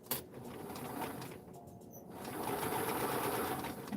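A sewing machine stitches a dress form cover, a quiet, rapid mechanical whir that briefly pauses and then resumes, running a little louder and more steadily.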